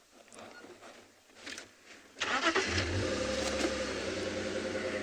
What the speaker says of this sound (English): subject you to the sound of the vehicle